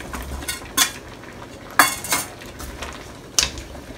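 Vegetables go into a pot of simmering Filipino pork rib caldereta with a few sharp, separate clanks of a utensil against the metal pot over a quiet background.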